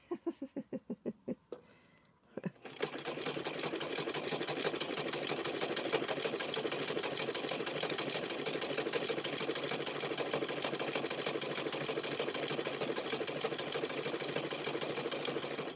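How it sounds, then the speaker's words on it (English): An older Singer sewing machine starts up after a few soft clicks and runs steadily at close range with a dense, even mechanical whir and no talking. "This is an older Singer, but the newer plastic Singer, that one sews really good."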